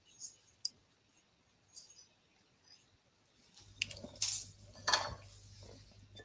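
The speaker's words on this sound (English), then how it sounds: "Just select the correct option, then click on the OK button" Computer mouse clicks, a couple of sharp isolated clicks in a quiet room, followed by brighter chime-like interface sounds over a low hum.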